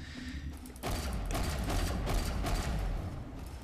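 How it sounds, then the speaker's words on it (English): A sniper rifle's bolt action in the sci-fi shooter Planetside 2, a steady mechanical clatter and ratcheting that swells after the first second and lasts several seconds among game noise. "here is the bolt action part"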